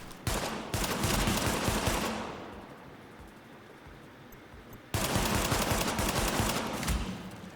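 Automatic gunfire crackles in the video game The Division, two long dense bursts of rapid shots separated by a quieter lull of about three seconds, with no voices over it.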